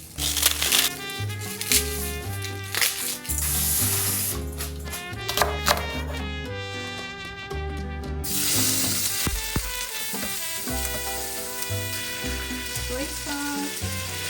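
Garlic cabbage sizzles and crackles in a stir-fry pan, a steady frying hiss under prominent background music, with a brief spoken word over it.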